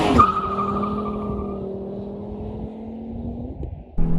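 A Volvo V70R accelerates hard after a tune-up, its loud close engine note rising steadily in pitch through a long pull before a brief break near the end.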